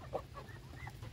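A chicken clucks softly among ducks over cracked corn on a farm in the morning, giving a few short, faint clucks against quiet ambient noise.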